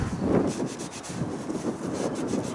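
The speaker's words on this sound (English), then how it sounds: "Just going to do the same with the back one, just buff that off" Rubbing and buffing on a Harley motorcycle wheel with a ceramic coating, a steady close-up friction sound with uneven swells, no talking.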